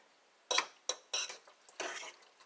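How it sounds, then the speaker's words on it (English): A utensil stirs brisket gravy in a pot, making four or five short scraping, clinking strokes against the pot at an uneven pace, close and fairly quiet with no talking. "You're just going to put that all in the gravy, and you're going to mix it."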